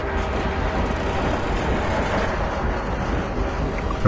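A train rushing past in the video game Half-Life 2, a loud, steady rumble and roar of heavy rail noise that fills the whole moment without a break.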